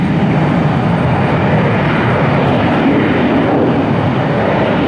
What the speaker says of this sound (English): Neat aircraft, check that out.